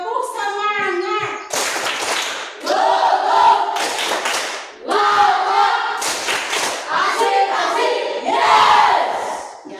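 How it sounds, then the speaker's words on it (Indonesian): A class group performing the tepuk semangat clapping chant: a crowd of children's voices shouting in rhythm with bursts of hand claps, loud and close, repeating in several phrases. "Tepuk semangat ya. Tepuk semangat."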